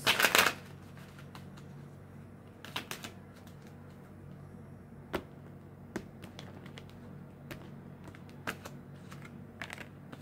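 Tarot cards being shuffled and drawn, with a loud riffle at the start followed by scattered soft taps and snaps of cards being pulled and laid down in a quiet room.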